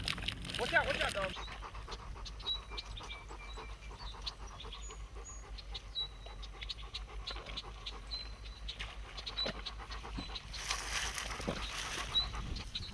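Dogs pant steadily and rhythmically through the whole stretch, fairly close but not loud, outdoors during a bow-hunting trip for Asian carp in Bath, Illinois, with faint water sounds around them.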